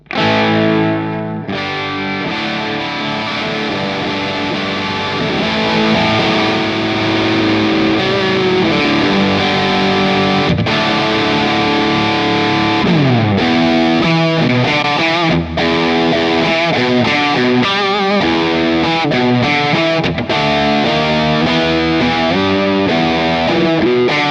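Electric guitar with a single-coil pickup played through a Crazy Tube Circuits amp-in-a-box pedal at low gain, giving an Orange-style overdrive; sustained chords and riffs ring out loud and continuous, with no talking.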